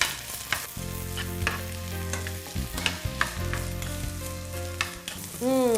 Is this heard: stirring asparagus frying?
yes